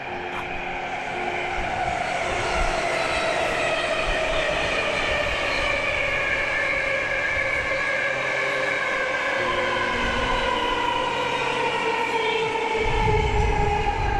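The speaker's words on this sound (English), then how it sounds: "there's a train keeps passing by" A train passing loudly beside an RV encampment in Oakland, California: a continuous roaring rumble with a high metallic wheel squeal sliding slowly in pitch, sustained and close throughout with no talking.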